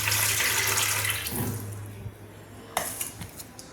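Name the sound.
pouring out water from washed rice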